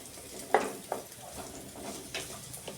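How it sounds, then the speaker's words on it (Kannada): Chopped onion fries lightly in a pan with a soft, low sizzle, broken by a few clinks and scrapes of a stirring spoon against the pan, quiet and close with no talking. "ಇದನ್ನು ನಾವು ಸ್ವಲ್ಪ ಸ್ವಲ್ಪ ಲೈಟಾಗಿ ಫ್ರೈ ಮಾಡ್ಕೊರಿ"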